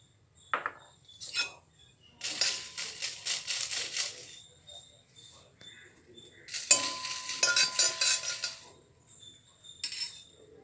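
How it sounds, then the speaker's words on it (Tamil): Dried red chillies roasting and being stirred in a pan for spicy dal powder, with bursts of scraping and clinking from the spoon against the metal between near-silent pauses, fairly quiet, no voices. "வரமிளகாய் போட்டு வறுத்துடலாம்"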